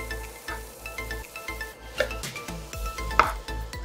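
Dried tiny shrimp (jawla) being sautéed in oil in a pan for Goan prawn balchao: a faint sizzle under repeated rhythmic scrapes and clinks of a spatula against the pan.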